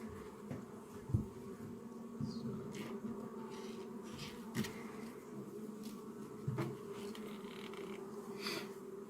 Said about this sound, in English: These frames are just loaded with bees.